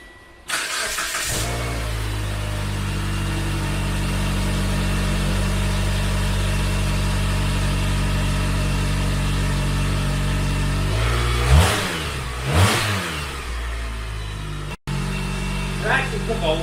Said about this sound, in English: First start up on the new exhaust.